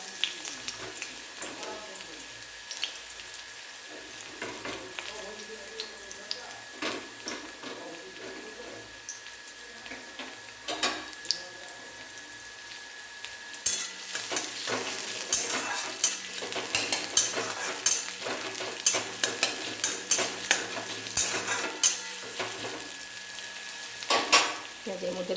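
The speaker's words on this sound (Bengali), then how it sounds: "তেলের মধ্যে দিয়ে দিলাম পেঁয়াজ" Sliced onions sizzle and fry in hot oil in a pan, a crackling hiss with scattered clicks of stirring that grows louder and busier partway through.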